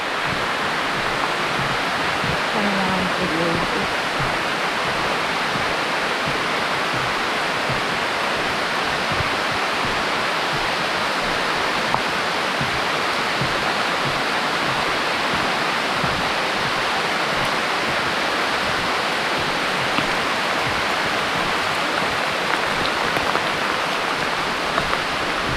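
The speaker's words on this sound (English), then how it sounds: "It's raining again right now." Rain falling steadily on the Boardwalk Trail in Congaree National Park, a dense, even hiss of drops with no pauses, continuous and enveloping throughout.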